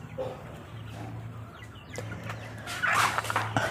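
Free-range village chickens cluck intermittently at a moderate distance over a low steady hum, with a louder burst of squawking toward the end.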